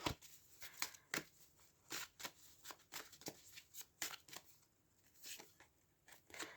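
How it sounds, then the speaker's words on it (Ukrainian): Tarot cards are shuffled and drawn up close: quiet, crisp riffles and snapping flicks in irregular bursts. "Для рибок витягую дві карти одночасно"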